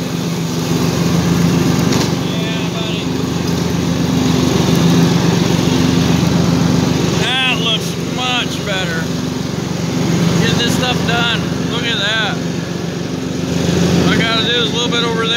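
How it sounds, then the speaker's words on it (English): A lawn mower engine runs steadily and close by throughout, a constant motor drone with a voice talking over it in the second half. "I'm gonna shut the mower off here"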